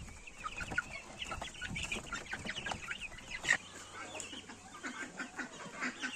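Soft clucking and peeping from a group of young cockerel chicks nearby, overlapping continuously in a quiet barn-like setting.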